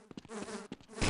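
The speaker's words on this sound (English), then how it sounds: "How are the bees still getting me?" Bees buzz in the Half-Life game, a close and loud insect drone that swells and breaks off in short bursts. A rough hiss rises at the end.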